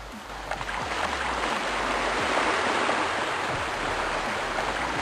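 Water rushes loudly and steadily in the video game Everquest: Hero's Journey, a constant dense roar like surf or a waterfall that holds for five seconds, with faint soft thumps underneath.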